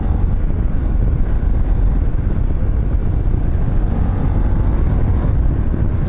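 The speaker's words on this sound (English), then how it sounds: "You hear the wind just literally passing your helmet." Wind roars past a motorcycle helmet on a 2016 KTM 1050 Adventure at road speed, a steady loud broadband rush with low rumble that never lets up.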